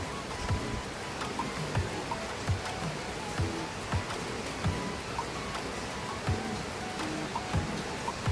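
Continuous rainfall with a soft, steady patter and scattered louder drops hitting a surface, alone with no voices, at a moderate, even level.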